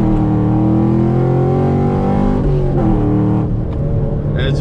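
A 2013 Chevrolet Camaro 1LE fitted with a stage 3 clutch and short-throw shifter drives hard, its engine droning loud and close with rising revs, a quick shift dip, then pulling again.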